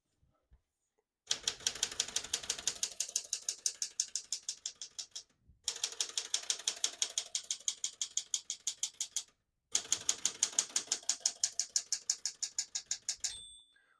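Typing on a 1976 Smith-Corona Galaxie 12 portable typewriter: three runs of rapid, evenly paced close key strikes, separated by short pauses, ending with a small bell-like ting.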